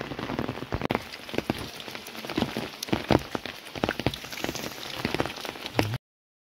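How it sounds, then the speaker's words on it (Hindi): Steady, dense rain falls in the mountains, a continuous close patter on surfaces with no voices. "बारिश बंद होने का नाम ही नहीं ले रही है"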